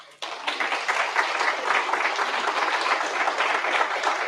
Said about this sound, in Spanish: Un aplauso al Señor y a María.